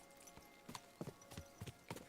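Horse hooves clip-clop at a walking pace in the medieval video game Kingdom Come: Deliverance 2, a run of close, irregular hoof strikes over a faint steady background hum.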